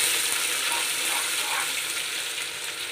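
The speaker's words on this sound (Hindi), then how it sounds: "मसाले को 1 मिनट के लिए पका लेंगे।" Cumin, asafoetida and crushed spices fry in hot oil in a pan for a lotus stem curry, giving a dense, steady, close-up sizzle that holds evenly throughout with no talking.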